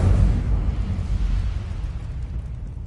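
A fire spell from Hogwarts Legacy bursts with a loud, heavy whoosh that decays into a low rumbling roar across the remaining seconds, with no talking over it.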